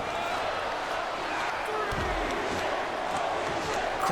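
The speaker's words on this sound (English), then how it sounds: "Crowd chanting" Crowd in the WWE 2K22 wrestling video game, a steady roar of arena voices with a dull thud near the middle, holding at an even level throughout.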